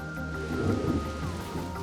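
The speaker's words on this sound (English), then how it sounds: "It is raining cats and dogs right now, something I'm not really used to coming from London." Torrential rain pours steadily during a thunderstorm, with a low rumble of thunder swelling underneath, heard close and at a moderate level.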